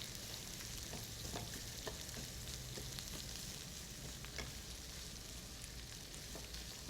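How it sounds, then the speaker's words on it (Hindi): Capsicum and onion fry in a pan with a faint, steady sizzle. Light stirring clicks sound now and then. "इसको आपने अच्छा सा फ्राई करना है।"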